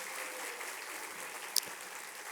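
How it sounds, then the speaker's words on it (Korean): A church congregation at a Sunday morning service applauds the praise team with steady, moderately distant clapping in a reverberant room. A brief sharp click cuts through midway. "격려의 박수 해주시면"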